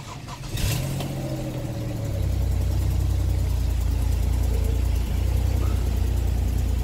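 A used car's engine at a Vietnamese car market cranks and catches, then settles into a steady, close idle that holds evenly to the end.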